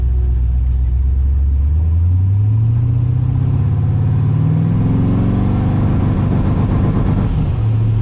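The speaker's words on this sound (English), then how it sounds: "As soon as it hits that enable point, it starts to rev limit." A car engine running a Holley Terminator X with V3 traction control climbs in revs to about 3,000 RPM, then stutters against the traction-control rev limiter. The rising growl is loud and close and continues without a break.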